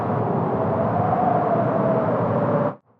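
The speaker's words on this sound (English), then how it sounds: "And so the first wind layer sounds like this." A synthesized wind layer built from a noise synth patch gives a steady, airy hiss with a faint whistling tone running through it, then stops abruptly near the end.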